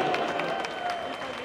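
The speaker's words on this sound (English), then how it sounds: "let's give a round of applause" A crowd applauds the winner of a beef noodle eating contest at Comic Con, with brief busy clapping and some cheering heard close, mixed with crowd noise.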